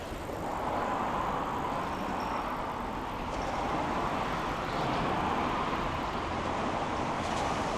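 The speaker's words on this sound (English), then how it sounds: "Like, you can kind of hear the traffic" Traffic on an elevated highway over a canal in Yokohama, a steady broadband rumble and hiss of passing vehicles, continuous, moderately distant, with no talking.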